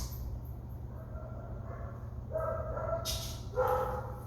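Several dogs bark in short bursts at a distance, a few yips and barks rising over steady low background noise.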